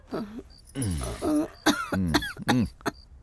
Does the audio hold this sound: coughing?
yes